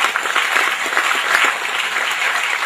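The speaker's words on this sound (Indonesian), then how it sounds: "Tepuk tangan untuk para santri semua" A large gathering of students at Pondok Modern Gontor 5 applauds loudly, a thick, continuous wash of clapping from many hands close by, with no speech over it.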